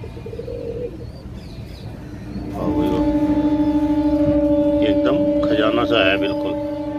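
Soft Saharanpuri Tara pigeon coos sound early on, then a steady high humming tone joins with some chirps, everything fairly close and continuous.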